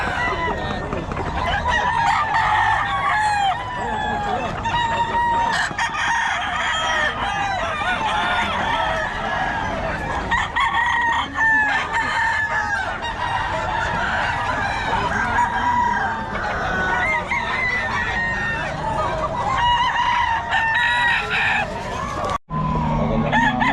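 Gamecock roosters at a Bocaue market crow repeatedly and cluck throughout, several birds at once, loud and close, over a busy background with people talking.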